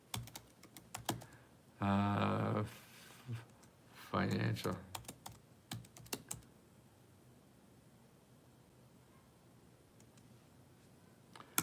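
Brisk computer keyboard typing in quick bursts of clicks, close and moderately loud, interrupted by short stretches of speech.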